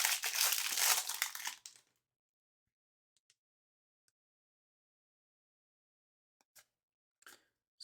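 A hockey card pack wrapper is torn open with a loud burst of crinkling for about two seconds, followed by near silence broken by a few faint, brief rustles toward the end.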